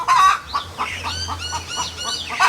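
A chicken clucking close by in a garden, a series of short rhythmic clucks with sharper squawks at the start and end, heard alone without talk.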